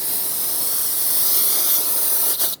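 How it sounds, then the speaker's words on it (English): Aerosol brake parts cleaner hisses in one steady, loud, close spray onto the rear wheel hub of a 2012-2018 Nissan Altima, cutting off abruptly at the end. "I'm going to start by spraying it with some brake parts cleaner to get rid of all of the dust and debris that's here."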